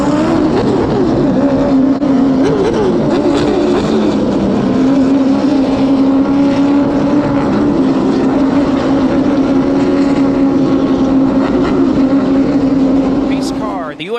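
Late model stock cars rolling to the start at Hickory, a loud, continuous roar of many engines packed together, droning steadily and swelling in pitch as the field accelerates, with voices faintly underneath.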